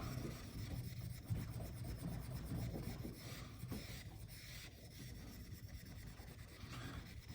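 A straight razor is honed on a flipped sharpening stone with fresh slurry, making steady, close, wet rasping strokes that continue without a break and without talk.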